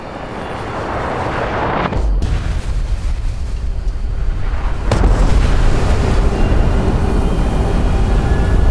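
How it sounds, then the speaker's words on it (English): A nuclear bomb detonates in Fallout 76 with a massive, sustained rumbling roar that swells over several seconds, with a sharp crack partway through before the deep low rumble grows even heavier; no one speaks. "so we can have a good view of the bomb going off"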